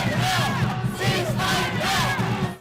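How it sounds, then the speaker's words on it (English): Protest crowd in downtown Sacramento chanting in unison for a ceasefire in Gaza, three loud rhythmic bursts of massed voices close by, steady and sustained throughout. "As ABC 10's Garj Palsanga reports, the crowd called for a ceasefire in Gaza."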